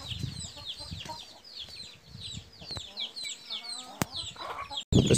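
Hens and chickens cluck and chatter busily while being fed a moistened, freshly mixed feed ration, their calls layered over low background rustling and handling noise, with a sharp knock near the end.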